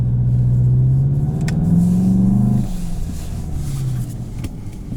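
A 2021 Volkswagen Jetta GLI with a DSG gearbox pulls away from a hill-start hold, its engine note climbing in a loud, close rumble, then easing back to a steadier, lower drone.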